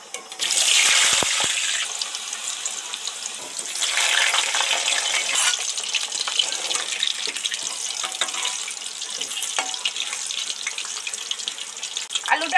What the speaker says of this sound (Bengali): আলুটা ধরে ধরে ডিপ ফ্রাই করে ভেজে নেব।